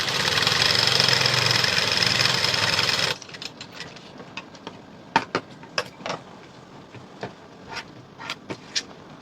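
A sewing machine stitches a 36-inch high neck blouse, running loudly and steadily for about three seconds, then stopping. Scattered light clicks and fabric handling sounds follow.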